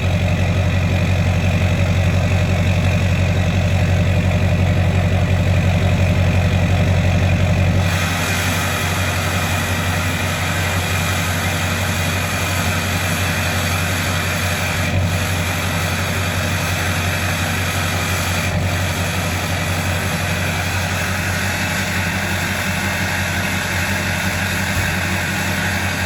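2006 GM LBZ Duramax diesel pickup idling through a 5-inch MBRP stainless exhaust, a loud steady rumble whose tone shifts partway through and then holds constant.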